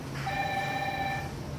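A telephone rings once with a single sustained electronic tone lasting about a second over a low background hum, no talking.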